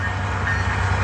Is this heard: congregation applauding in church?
no